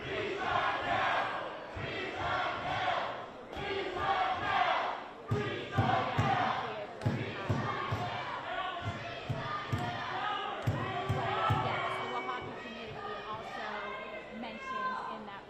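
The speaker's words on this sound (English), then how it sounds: "this is a crowd that is calling for resignation. They say they are chanting for" Crowd at a Los Angeles City Council meeting chanting for three council members to resign, a dense, rhythmic roar of many voices with thumps and shouts mixed in, continuous and loud throughout.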